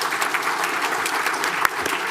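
A council meeting audience claps steadily for a former county supervisor, a moderate, continuous patter of hands from a modest crowd with one sharper clap standing out.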